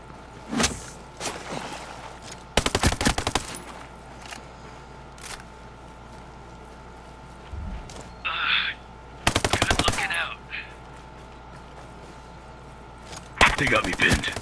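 Automatic and single gunshots in a Ghost Recon Breakpoint PvP firefight come in several sharp bursts with pauses between them, close and loud, and a brief faint voice sounds in the middle.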